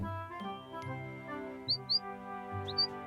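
A small bird gives a few short, high chirps in quick pairs, faint over a soft animated-cartoon musical background.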